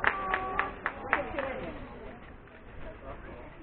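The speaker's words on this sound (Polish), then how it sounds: "Brawa dla Marii Henriety Chodowieckiej." A crowd at a street festival on Gdańsk's St. Spirit Street breaks into brief applause, a burst of sharp rhythmic claps up front that fades into scattered clapping and murmuring chatter.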